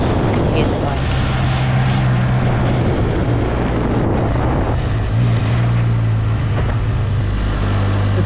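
Can-Am Spyder F3-S three-wheeled tadpole trike with a 1300cc, 115 BHP engine, heard while riding: a loud, steady engine drone mixed with heavy wind rush, shifting slightly in pitch as speed changes.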